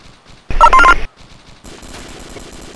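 A loud burst of automatic gunfire rattles close by for about half a second in ArmA 2 Project Reality, followed by fainter, more distant popping shots.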